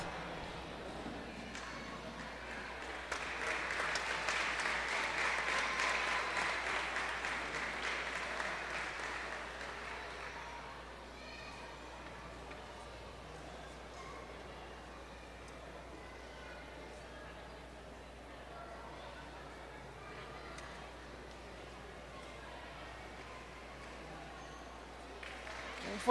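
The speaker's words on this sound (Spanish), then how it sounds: "Fuerte aplauso." An audience at a 2014 folklore festival in Bagaces, Costa Rica, applauds the town's mayor and deputy mayor; the clapping swells for several seconds, then fades into quiet hall ambience.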